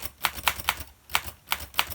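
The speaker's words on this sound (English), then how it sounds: "this Underwood from 34, it's like the sound of the keys is quieter" Typing on a 1934 Underwood typewriter, a quick run of crisp key clacks with a short pause midway, close and moderately loud with no voices.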